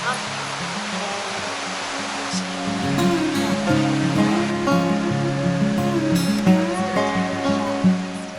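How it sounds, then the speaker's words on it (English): Clear river water rushes steadily during a river crossing in the Majella mountains of Abruzzo, Italy, a close, continuous wash of flowing water with faint voices underneath. "We are crossing the river."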